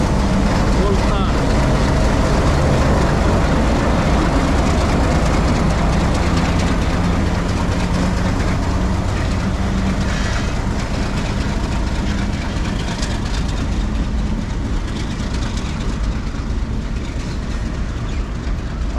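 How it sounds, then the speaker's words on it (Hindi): Light locomotive running alone on a railway line near Piran Gaib station, a continuous heavy, low engine rumble with rolling rail noise, close and steady, with some voices mixed in. "डाउन लाइन पर कन्वर्ट हो जाएगा ये अप लाइट इंजन"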